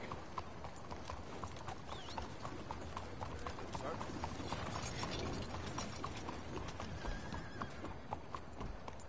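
Horse hooves clip-clopping at a steady walking rhythm in Red Dead Redemption 2, close and continuous, with creaking tack and game ambience underneath.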